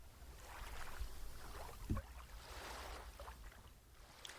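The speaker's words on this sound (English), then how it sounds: "The distant muffled sound of the boat" A muffled, distant boat rumble heard while floating in water at Coron, Philippines drones low and faint, with soft watery swishes and a brief thump in the middle.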